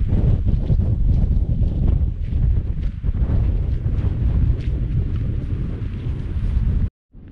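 High wind buffets a microphone on the exposed hilltop of Earl's Seat in the Campsie Fells, a loud, continuous low roar with gusting surges, cutting off abruptly just before the end.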